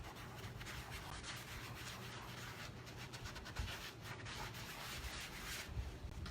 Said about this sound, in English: It's best to have like a towel and rub over it to make sure it's all sticking good.